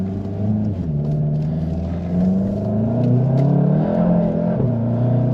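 A 2017 Volkswagen Golf GTI Mk7 with a DSG gearbox accelerates hard from inside the cabin, its engine droning and rising in pitch through a gear change while the tires lose traction, with a steady loud rumble throughout.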